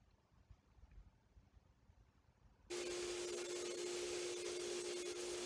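A vacuum cleaner hooked up to a drilling setup switches on abruptly partway through, then runs at a steady loud whine with a constant hum; only quiet background before it starts.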